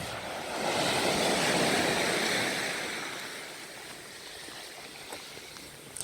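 Sea waves wash onto the shore of Godaedo island in Boryeong, South Korea, a broad rolling surf that swells loudly early on and then settles into a steadier, softer wash with a few small clicks near the end.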